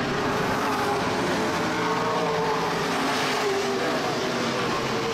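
Modified race car roaring around a dirt oval at Redwood Acres Raceway during a North State Modified Series race, a steady loud engine drone with broadband roar throughout, with faint announcer talk underneath.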